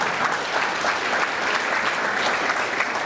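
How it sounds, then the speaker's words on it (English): Applause from an audience at a city State of the City address, honoring the police department. A steady wash of many hands clapping, moderately distant, continuing without pause. "Please give them a round of applause here."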